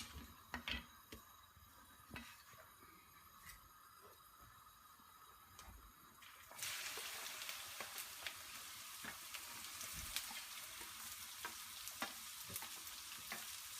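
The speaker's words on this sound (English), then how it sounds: "into this same oil, whilst the oil is hot, we're going to add our okras" Okra dropped into hot oil left from browning potatoes sets off a loud, sudden sizzle after some quiet clinks and taps, then a steady frying hiss with stirring knocks.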